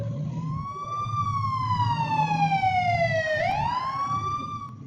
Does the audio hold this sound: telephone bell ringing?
no